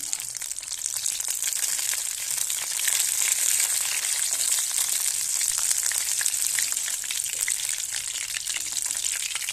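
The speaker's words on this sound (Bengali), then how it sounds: "এরকম লাল লাল করে ভেজে নিতে হবে" Carrot rolls frying in oil until reddish, a steady close bubbling sizzle with a bright crackling hiss that holds evenly and grows slightly louder partway through.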